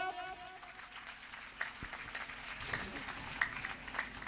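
An audience claps at a devotional discourse on the glory of the cow, producing steady, moderate applause that continues under a voice throughout.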